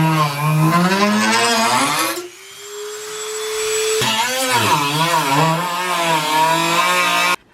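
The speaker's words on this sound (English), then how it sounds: "we're gonna take our brand new Dremel and we're gonna go from the underside and cut it all out" A Dremel rotary tool cutting vents into a Mazda Miata hood, a loud, close, high whine that wavers in pitch as it bites into the metal, easing briefly before resuming.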